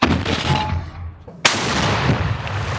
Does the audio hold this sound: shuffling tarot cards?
no